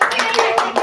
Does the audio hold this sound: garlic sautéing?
no